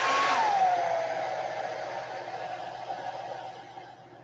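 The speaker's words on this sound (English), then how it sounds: "let's bring the dryer over so I can lay it down" A dryer blows on fresh paint on a fishing lure, a steady airy roar with a brief falling whine at the start, loud at first, then gradually fading away.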